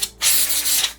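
Aerosol oil sprayed into the bobbin area of an embroidery machine, one steady hissing burst lasting most of a second after a brief quiet start, close and fairly loud with no talking.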